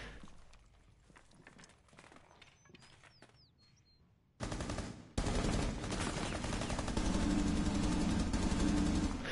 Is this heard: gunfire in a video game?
yes